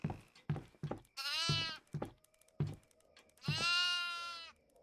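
Goats in the Devour horror game let out two long, loud nasal bleats, separated by a run of sharp footstep-like thuds in an otherwise quiet room.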